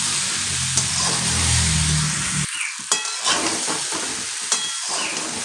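Mixed dal tarka sizzles steadily in a pan while being sautéed, with a continuous close frying hiss, a few spoon scrapes against the pot and a brief pause midway.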